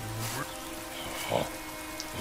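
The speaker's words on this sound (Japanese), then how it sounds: "雨降ってんのに" Soft, steady rain hisses quietly in the video game Last Day of June, a faint continuous patter with occasional brief drip-like accents and no talking.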